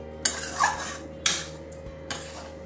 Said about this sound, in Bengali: মিষ্টি দিয়ে আবার একটু নাড়াচাড়া করে দিচ্ছি।